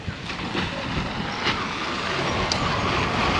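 Road traffic on a village road in Sri Lanka, a steady rumble of passing motor vehicles with a few brief sharp hissing bursts, fairly close and continuous without talk.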